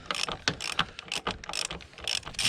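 Rapid ratchet clicks come in uneven bursts as a wrench works a bolt loose on a torque strut mount of a 2013-2018 Nissan Altima with the 2.5L QR25DE engine, close and fairly loud with no talking.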